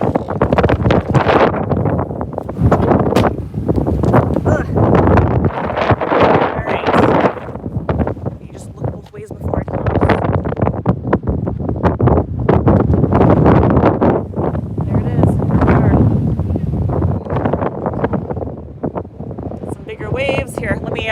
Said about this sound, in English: It is really windy, isn't it?